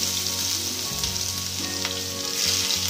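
Cumin seeds crackle and sizzle steadily in hot oil for udad dal, a dense continuous frying hiss with faint stirring, close and fairly loud, no voices.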